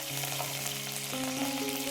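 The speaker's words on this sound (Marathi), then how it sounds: "फोडणीसाठी 7 ते 8 कढीपत्त्याची पानं घालून घ्यायची आहेत" Curry leaves dropped into hot oil with mustard seeds and cumin for tempering give a steady, close crackling sizzle, with a faint low hum beneath the frying.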